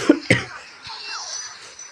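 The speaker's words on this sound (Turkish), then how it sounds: "Arada bir öksürüyorum." Two quick, sharp coughs close up, followed by a faint trailing breathy sound.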